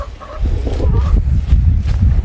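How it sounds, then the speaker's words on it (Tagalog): Chickens on a small poultry farm clucking and calling near the microphone, a few overlapping bursts over steady low background noise, with no speech. "Ayan po ang kanyang mga manok."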